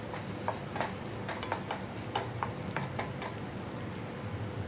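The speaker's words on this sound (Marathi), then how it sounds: "कांदा चांगला भाजून घ्यायचा आहे आपल्याला" Onion frying in oil for paneer bhurji, a close, steady sizzle broken by a series of light spatula scrapes and taps, with no voices.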